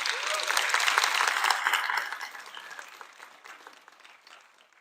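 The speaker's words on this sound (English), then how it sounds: "Just one more round of applause for our staff." Enthusiastic applause from a crowd, loud at first and then gradually fading away over several seconds.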